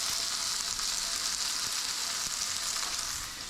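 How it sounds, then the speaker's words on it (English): Shredded pork frying in a cast iron skillet, a steady, close and loud sizzle that holds evenly throughout with no talk over it. "So I'm going to set that into my cast iron skillet to crisp up on the first side now."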